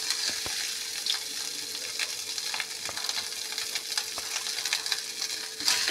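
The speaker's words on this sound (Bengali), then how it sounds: "এবার এটা এই মাছের তেলেই এটা একদম শুকনো লঙ্কাটা পাঁচফোড়নটা একদম ভাজা হয়ে গেল।" Dry red chilli and panch phoron frying in leftover fish oil, a steady close crackling sizzle with a few sharp pops and clicks throughout, no voices.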